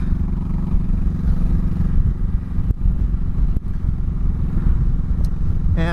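A 2004 Honda Sabre 1100 cruiser motorcycle being ridden, its engine a steady, close, loud drone that holds an even pitch throughout. No one speaks.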